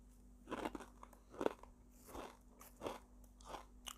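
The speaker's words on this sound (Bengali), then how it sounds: "ভাতের বদলা চানাচুর খাইলাম" Chanachur, a crunchy snack mix, eaten up close: about five crisp bites and crunches at a steady, unhurried pace, with no talking.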